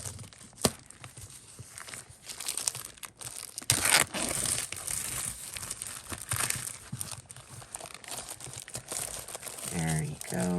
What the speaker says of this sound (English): I'm going to move these envelopes and stuff out of the way for you